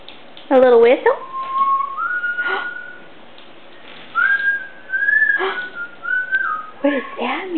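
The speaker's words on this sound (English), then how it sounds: "A little whistle?" A person whistles in a kitchen while a dog is nearby: a few quick warbling notes, then long sliding and held tones, with short pauses and a soft whimper, close and clear.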